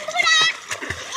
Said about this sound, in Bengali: দেখো বন্ধুরা কেমন করে সাঁতার শেখে